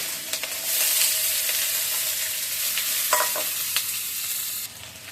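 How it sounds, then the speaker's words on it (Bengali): Potatoes and onions sizzle steadily in hot oil in a wok, with a loud, continuous hiss broken by a few close scrapes and clinks of stirring. "প্রথমে আলু পেঁয়াজগুলো ভেজে নেব"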